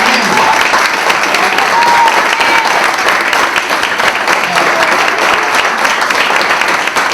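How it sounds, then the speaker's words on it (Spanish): Church congregation giving newcomers a warm round of applause, loud, dense, continuous clapping from a crowd that holds steady for the whole stretch. "Con un caluroso aplauso."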